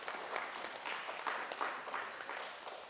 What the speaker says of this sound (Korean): 우리 격려하는 마음으로 한번 박수 한번 하겠습니다.